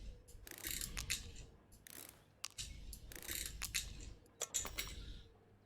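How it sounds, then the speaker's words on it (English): Small screws being turned out of a game controller during a repair in Electrician Simulator, heard as repeated ratcheting clicks and mechanical whirs in short bursts, fairly close and steady, with no talking. "so we'll just unscrew all these"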